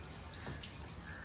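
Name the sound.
water being poured onto a tree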